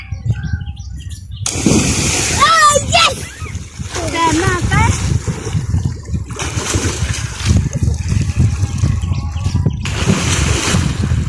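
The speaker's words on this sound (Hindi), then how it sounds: "अभी ये जो आप देख रहे हैं नहर का नज़ारा, बच्चे नहा रहे हैं" Children splash while bathing in a shallow canal of cool water, with loud, continuous splashing and voices, and birds chirping nearby.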